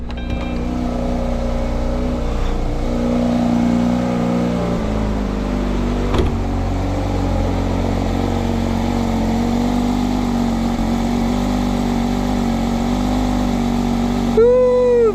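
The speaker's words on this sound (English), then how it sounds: "That's that sweet flat 6 music." A Porsche 911 GT3 RS flat-six engine runs loud and steady from outside, a continuous rich idle that swells with a couple of revs, holding near and dominant throughout.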